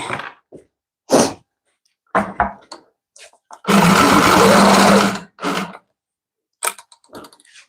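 Sewing-style quilting machine stitching in the ditch of a quilt, a steady mechanical whir lasting about a second and a half, with short bursts of movement and handling around it and no talk.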